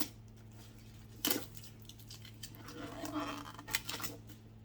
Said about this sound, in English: just find wherever the tape starts, and just get it started and tear it off